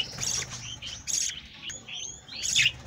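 Budgerigar chicks in a nest give repeated high, thin chirps and squeaky calls, close and fairly loud, in several bursts over a quiet background.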